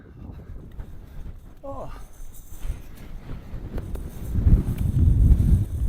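Wind gusts across the summit of The Brack in the Arrochar Alps, buffeting the microphone with a low rumble that strengthens toward the end, while a person briefly exclaims.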